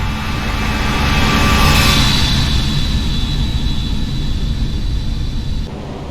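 Simulated Airbus A319 jet engines roar steadily during an exterior flyby departing Maui in a flight simulator, a loud continuous rumble with a whine that swells around two seconds and then eases off, with no talking.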